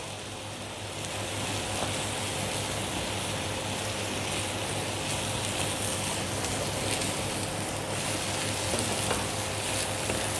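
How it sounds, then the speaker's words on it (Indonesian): Sugar water with pandan leaves and a pinch of salt cooks in a pan, giving a steady close hiss and bubbling sizzle that holds evenly for the whole stretch, with no talking. "ini kita masak sebentar sampai airnya meresap dan gulanya cair"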